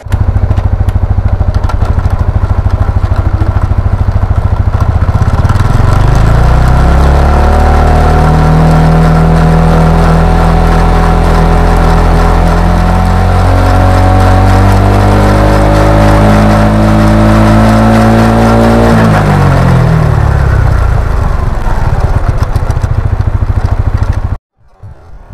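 A motorcycle engine revs repeatedly with the throttle blipped, the drive chain fitted with a TK Racing chain after a year of use and running slack; a loud, close, sustained engine note rises and falls with no talk, then cuts off abruptly.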